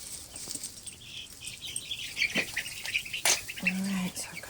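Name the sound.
backyard chickens squawking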